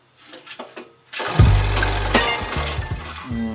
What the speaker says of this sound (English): Here I'm trying to drill the hole for the test button into the acrylic window